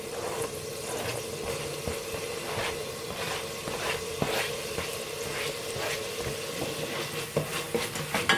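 Garlic and onion sizzling in spice-scented oil for shrimp rice, a steady close hiss with a sustained tone underneath, broken by repeated soft scrapes and taps of stirring and a few clatters near the end, with no voices.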